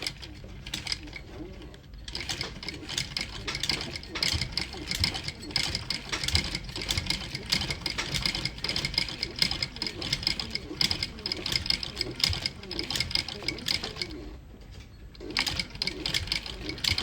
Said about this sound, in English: So we are stitching the toe cap first.